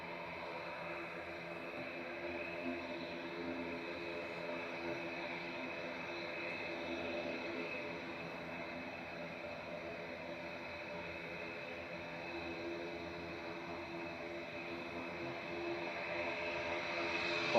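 Airliners at Manchester Airport, including an Aer Lingus Regional ATR 72-600 turboprop, roar steadily as engines spool up for takeoff, a broad sustained rumble held at moderate distance that swells slightly toward the end.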